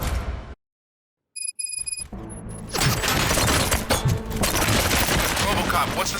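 After a short silence, rapid bursts of gunfire in the video game RoboCop: Rogue City crackle and pop, dense and loud, mixed with chaotic impacts and clatter.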